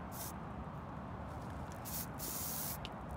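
A can of glitter spray hisses in short bursts at a Halloween party, steady airy spraying starting and stopping several times, close and fairly loud over a quiet background.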